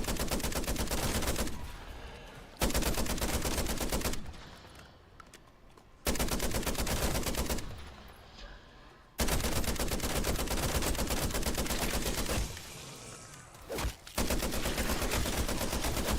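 A shotgun fires in Call of Duty MW3 Zombies, loud dense bursts of gunfire lasting a couple of seconds each, separated by short quieter gaps of battle noise.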